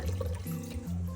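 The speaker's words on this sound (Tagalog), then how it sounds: "Pagkatapos, pwede nyo nang tanggalin ang tubig na pinaghugasan." Rice-washing water pours out of a cooking pot in a steady, quiet stream with a brief gurgle, heard alone.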